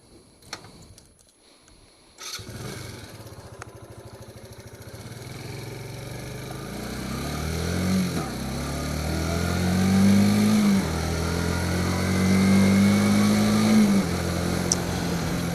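A Suzuki GZ Marauder 125 motorcycle with a small 12-horsepower engine cranks and fires up after a few quiet clicks, idles briefly, then pulls away through the gears, its buzzing engine climbing and dropping in pitch up close.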